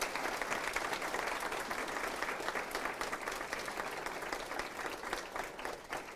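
An audience at a leadership talk claps in a steady, sustained round of applause that holds at an even level before tapering slightly near the end.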